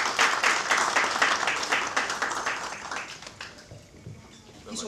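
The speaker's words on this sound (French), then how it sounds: "S'il vous plaît, joignez les mains pour applaudir Mme Alison Vieira." Audience applause at a diaspora week event, a dense wash of many hands clapping that holds steady for several seconds, then thins out and fades toward the end.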